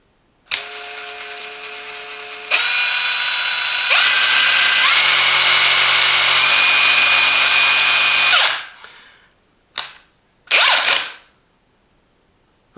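A Parkside 20V Performance cordless impact wrench, PPDSSA 20 Li A1, whirs loud and close at several steady motor speeds for about eight seconds, then spins down, followed by two short bursts.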